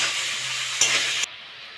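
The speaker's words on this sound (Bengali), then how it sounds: "ওই তেলে আমি ফুলকপিগুলো ভেজে নেব" Cauliflower fries in oil with turmeric and salt, a steady close hiss and sizzle that swells briefly with a stir before cutting off suddenly to quiet.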